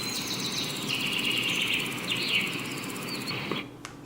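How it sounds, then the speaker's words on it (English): Crickets setting on an Etekcity white noise machine plays a soft, continuous chirring insect texture with faint bird-like chirps over a steady hiss, at low volume. "And number 14, some crickets."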